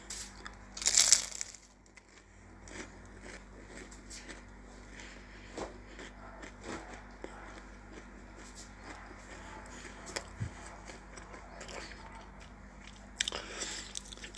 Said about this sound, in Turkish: Şimdi ısırıyorum.